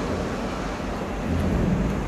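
Low, rolling thunder rumbles continuously through a storm, with rain noise and a wind-like hiss layered over a broad, swelling roar that grows slightly louder toward the end.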